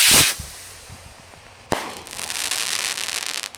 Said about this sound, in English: That was a willow shell.